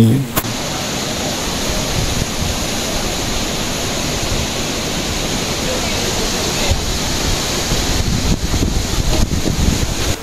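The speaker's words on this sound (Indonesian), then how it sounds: "Suara gemercik air dari sungai yang membelah perbukitan di Kampung Lam Sujen ini" River water flowing between hills at Kampung Lam Sujen in Aceh: steady, dense rushing and babbling that continues for the whole span, close and fairly loud, with no voices over it.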